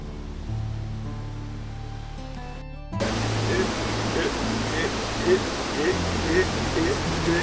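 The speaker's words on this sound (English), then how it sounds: "I am actually amazed because I am seeing like 2 other waterfalls, smaller ones here" Steady, broadband roar of the Ekom Nkam waterfall in Cameroon, loud and continuous, with a quieter tonal sound at the start before the full rushing water takes over.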